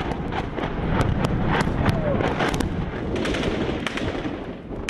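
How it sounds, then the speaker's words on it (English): Battle sounds in Misrata, Libya, during fighting between Gaddafi troops and rebels: scattered gunshots crack in quick irregular bursts over a constant rumble of distant shelling and commotion. "Gaddafi troops inside the city are supported by intense shelling from those camped on the outskirts."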